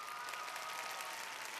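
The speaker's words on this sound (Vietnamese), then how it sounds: "Một lần nữa một tràng pháo tay thật lớn để chào đón tất cả quý vị." Audience applause at a televised family talent show, a dense, steady wash of clapping from a large crowd that holds evenly throughout.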